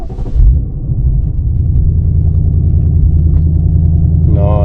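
A Ford Mustang S650 Dark Horse with its fourth-generation Coyote V8 rumbles at a steady idle, deep and close, after a short opening burst, with a brief higher rasp at the very end.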